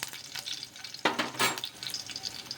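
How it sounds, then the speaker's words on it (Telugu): Crushed garlic being stirred in hot oil in a pan, with cumin added: close, soft sizzling, with a brief louder scrape and hiss of the spoon partway through. No talk. "ఒకసారి బాగా కలిపేసుకొని"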